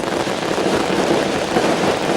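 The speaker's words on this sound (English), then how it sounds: "Just delay there whilst all the fireworks go off here at Headingley." Fireworks going off at Headingley stadium before a rugby league kick-off, heard as a dense, continuous crackling roar that stays loud and steady throughout.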